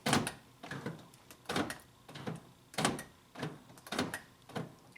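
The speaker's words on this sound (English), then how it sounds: "Let me just hit the door lock, see what it does." Door lock actuators on a 2000 Honda Civic cycling, one actuator faulty, giving a series of about eight quick mechanical clunks in a steady rhythm, close and fairly loud.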